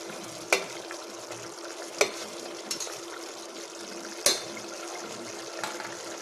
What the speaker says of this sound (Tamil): சாப்பாட்டுக்கு தேவையான அளவு உப்பு ஆட் பண்ணிக்கலாம். நல்லா கிளறி விட்டுடலாம்.